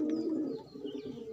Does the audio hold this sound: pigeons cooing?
yes